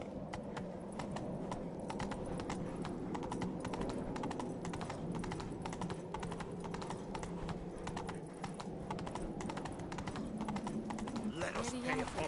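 Hooves of Roach, the horse in The Witcher 3, clatter in a fast, continuous galloping rhythm, close and steady throughout, with a low murmur of background voices underneath.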